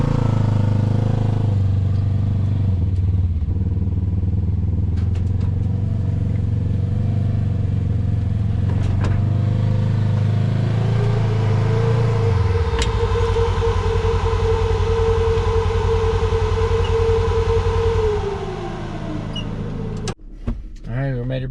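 A Polaris RZR side-by-side drives off-road back toward a Toyota truck, its engine droning loud and close, shifting in pitch midway, then dropping away near the end with a few rattling knocks.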